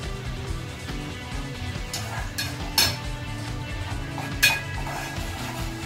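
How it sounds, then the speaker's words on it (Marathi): Sabudana (sago pearls) tipped into a pan of peanuts fried in oil: scattered metallic clinks and scrapes of a utensil against the pan over a low steady background hum, with a couple of sharper clanks. "आता याच्यात साबुदाणा सोडायला लागले."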